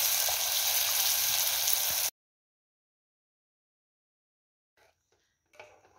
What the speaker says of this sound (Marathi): टोमॅटो तेलातच टाकले आहे आणि तेलामध्येच मी वाटाणा टाकला, म्हणजे वाटाणा तेलामध्ये तळला की खूप छान लागतो